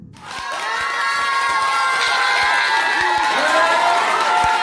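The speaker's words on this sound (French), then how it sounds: "Un tonnerre d'applaudissements s'il vous plaît." A lively audience, including children's high-pitched shouts, cheering and clapping at a show, loud and sustained throughout with scattered sharp claps over a roar of excited voices.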